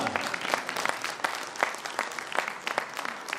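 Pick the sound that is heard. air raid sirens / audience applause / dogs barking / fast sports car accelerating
audience applause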